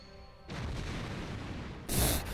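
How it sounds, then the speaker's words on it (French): An explosion in the video game Spectrobes Origins: a steady, wide roaring rumble, then a sudden loud, bright blast near the end of the short stretch, with no talk. "Méga explosion, il a tout découpé en fait, ce type."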